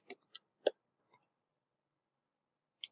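Sparse mouse clicks in a web hosting control panel: a few quick, close clicks in the first second, then a gap of near silence before one last click.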